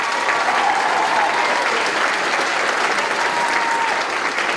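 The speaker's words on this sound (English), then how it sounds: "Let's give a round of applause for our tenor sax soloist, Natalie Reed." A concert audience at a winter symphonic and jazz concert applauds a tenor sax soloist with full, even, sustained clapping, while faint talk sits beneath the clapping.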